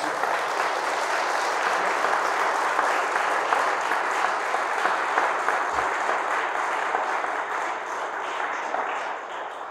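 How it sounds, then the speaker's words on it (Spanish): Steady, sustained applause from a church congregation, evenly loud throughout with no voices rising above it. "Fuertes aplausos a Jesús."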